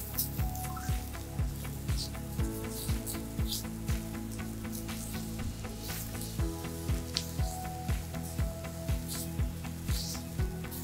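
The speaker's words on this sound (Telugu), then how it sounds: "And then we add some garlic, chopped garlic." Chopped garlic and mushrooms frying in a pan, a constant sizzle with regular spatula scrapes and taps repeating at a steady rhythm, close and moderately loud, with no one talking.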